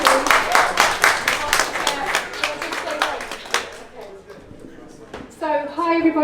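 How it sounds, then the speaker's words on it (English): An audience at a talk event applauds a speaker with dense, close clapping that fades after about four seconds, then a voice begins speaking alone. "So a round of applause for Bonnie, please."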